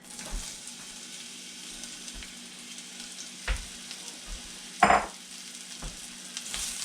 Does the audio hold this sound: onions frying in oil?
yes